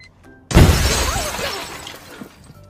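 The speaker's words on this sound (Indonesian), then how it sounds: "Namun malah semua kaca mobil tiba-tiba pecah." All the windows of a car shattering at once in a comedy film scene: a sudden loud crash of breaking glass, followed by tinkling debris that slowly dies away.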